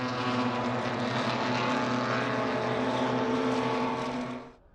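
Loud, steady roar of BMW racing cars on a race track, a sustained engine drone holding for several seconds before quickly fading away at the end.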